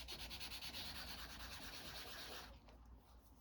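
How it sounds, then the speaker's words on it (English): Dry, scratchy rubbing of sandpaper on paper in a close, quiet setting while decorating a junk journal folder, a steady back-and-forth scrape that stops abruptly near the end. "Oh, sandpaper."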